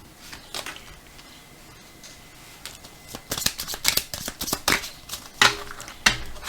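Tarot cards are handled up close: soft rustles first, then a run of crisp snapping flicks and riffles as the deck is shuffled and cards are drawn, quiet and with no voices.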